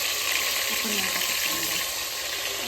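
Mutton frying in a hot pan with bay leaf, making a loud, dense, continuous sizzle close by, with faint voices murmuring beneath it.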